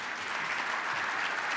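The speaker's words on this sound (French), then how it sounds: "On peut applaudir Jonathan." An audience applauds a presenter at a talk on group insurance trend factors, with steady, dense clapping that fills the whole short stretch at an even, moderate level.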